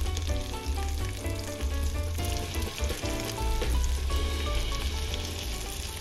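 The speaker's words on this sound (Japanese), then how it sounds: "焦げ目がつくまで片面を焼いていく。" A hamburger steak patty fries in a pan, searing on one side until browned, with a steady, close, fairly loud sizzle that runs on without a break.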